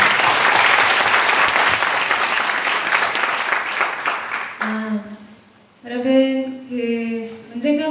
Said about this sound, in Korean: 우리 예배를 받으신 하나님 앞에 우리 영광의 박수 한번 올려드리겠습니다.